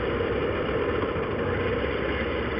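A Triumph motorcycle engine runs steadily with a mechanical-sounding idle, a constant low, even rumble with no revving, heard close up and alone with no talking.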